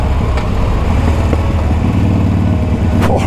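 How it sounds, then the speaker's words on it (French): A Harley-Davidson Iron motorcycle engine heard while riding at around 80, a loud, continuous low rumble with steady throb and no talk over it. "Le bruit de la moto, les vibrations qu'on a, les retours qu'elle peut faire."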